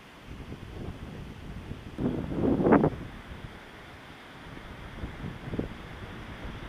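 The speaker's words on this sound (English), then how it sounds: "Oh, there's enough wind." Wind roars steadily across the microphone while paragliding at Portsea, Victoria, Australia, with a louder gust building around the middle and no speech.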